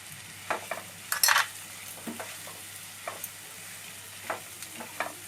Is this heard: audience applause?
no